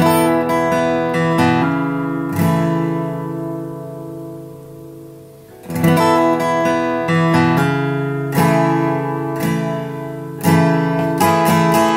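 An acoustic guitar is strummed in bright chords. The first strums ring out and fade before a steady strumming pattern starts, played alone and close.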